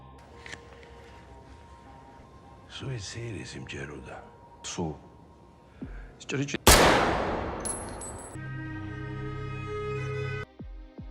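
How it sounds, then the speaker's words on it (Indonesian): A gunshot in an action film, a loud sudden blast partway through with a ringing tail, preceded by dialogue and other film sounds. "Akhirnya, dia menembak mati temannya ini."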